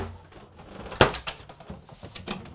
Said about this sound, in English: we have full-length drawers here that pull all the way out that have a soft return system